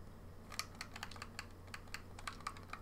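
Rapid, light clicking of a computer keyboard as a player name is typed into a football game's transfer market search, a quick irregular burst of keystrokes, faint and close, with no talking.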